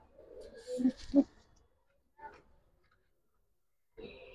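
Pigeons at a pigeon market give a couple of short, close coos in quick succession, followed by faint scattered sounds and stretches of near quiet.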